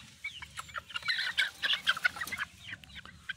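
National banded gamefowl chickens clucking close by in a short, busy burst of overlapping clucks and soft calls over low background noise.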